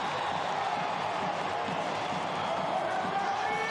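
Basketball arena crowd at a FIBA Women's World Cup pre-qualifying game between Rwanda and Great Britain, a steady loud roar of cheering and noise filling the space throughout, with a commentator talking over it.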